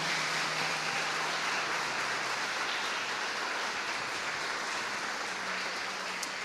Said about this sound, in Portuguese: Você pode dar um aplauso ao Senhor Jesus por isso?